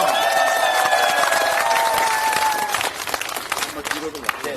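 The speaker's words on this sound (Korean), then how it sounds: "다시 한번 뜨거운 박수 부탁드리겠습니다." Crowd applause at a political rally fills the space, dense and steady, with a sustained tone over it that fades midway, leaving scattered clapping and crowd noise.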